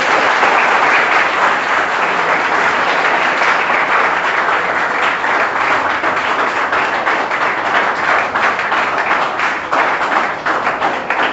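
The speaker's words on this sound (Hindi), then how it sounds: "सभी तालियों के माध्यम से इनका जोरदार स्वागत करें।" Audience at a motivational seminar in a coaching class gives the arriving chief guest a loud, sustained round of applause, dense steady clapping close by with no voices over it.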